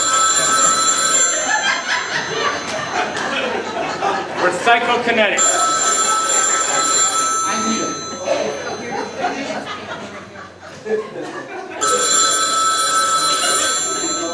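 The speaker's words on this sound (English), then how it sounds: "Sounds like the phone." A telephone rings repeatedly in long electronic bursts with pauses between, while people talk and react over it.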